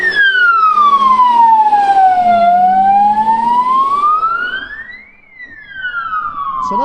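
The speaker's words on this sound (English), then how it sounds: "A car and a van out on blues and twos" Police car and van sirens wail outside a police station in Filton, Bristol, loud and close, with long rising and falling sweeps that dip briefly near the end before sounding again.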